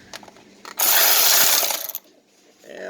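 An inexpensive power tool drives out a transmission bolt in a loud, harsh whir lasting about a second, framed by a few small metallic clicks and taps before and after.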